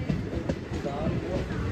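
An Indian Railways train runs on the Anantnag to Banihal line near Qazigund, with a loud steady rumble and rhythmic clatter of wheels. A voice talks faintly over the noise.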